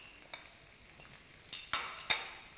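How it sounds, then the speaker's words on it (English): Spices with paprika and salt are stirred as they heat in a pan, producing a low sizzling bed broken by a few soft scraping strokes, quiet and close with no talk. "And then just stir it up a bit. And just let them get heated up."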